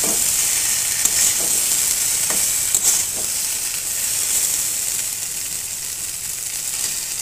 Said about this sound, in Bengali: এগুলো একটু ভালো করে নেড়ে চেড়ে তারপর ঘি দিয়ে দিলাম